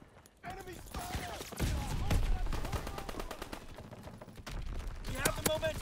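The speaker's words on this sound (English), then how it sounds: "Enemy fire!" Enemy gunfire in the World War II shooter Call of Duty WWII: rapid bursts of machine-gun and rifle shots crack at a steady clip. They come mixed with shouted battle voices and ambient combat noise, moderately loud throughout.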